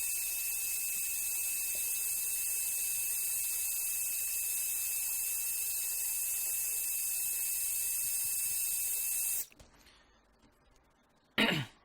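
A continuous high-pitched blowing whine runs steadily for about nine seconds, then cuts off abruptly, followed by near quiet and a brief burst at the end.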